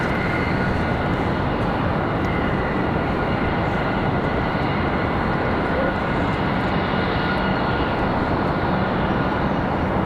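American Airlines heavy jet landing at Raleigh Durham airport, a steady broadband roar of engines and rushing air filling the whole stretch, loud and sustained with a slight rise and fall as the aircraft passes.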